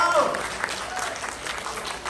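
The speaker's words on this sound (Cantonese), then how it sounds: "俾啲掌聲" An audience claps steadily at a Cantonese singing contest awards ceremony, a dense patter of applause filling the short clip with no pauses.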